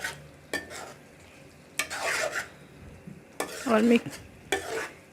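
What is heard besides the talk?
stirring and mixing brinjal arbi curry in a pan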